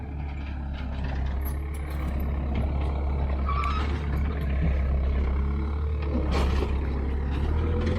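A skid steer running on a narrow timbered ridge during dry, dusty conditions, a loud continuous low engine rumble with steady drone and occasional higher mechanical whines and clanks on top.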